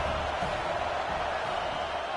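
At a Clemson college football game, a stadium crowd roars in a steady, dense wall of cheering noise with no distinct voices.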